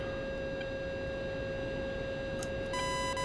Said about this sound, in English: If you're slow, it'll start with a solid beep, and if you pull up more, it'll start beeping fast.